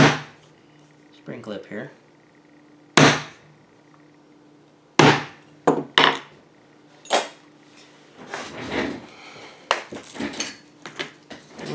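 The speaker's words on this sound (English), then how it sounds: "we're going to punch some holes that are going to be for our" Leather being punched with a hole punch for an inside-the-waistband concealed-carry holster, giving a few sharp, separate knocks and thumps close up, with brief talk in between.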